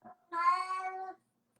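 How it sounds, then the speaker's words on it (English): A cat gives one long, drawn-out meow, close and clear, after a short chirp-like sound, with quiet afterward. "Is that your cat?"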